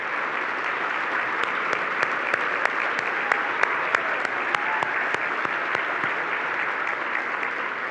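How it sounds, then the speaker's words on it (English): An audience at a chamber of commerce dinner gives the board of directors a big round of applause: sustained, even clapping with sharp individual claps popping out near the front, no talk over it. "Let's give these ladies and gentlemen a big round of applause for their unwavering commitment to this organization."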